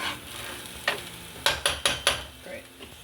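Shrimp fried rice with soy sauce being stirred in a hot pan, a low steady sizzle under a run of four or five sharp spatula scrapes and clinks, fairly close.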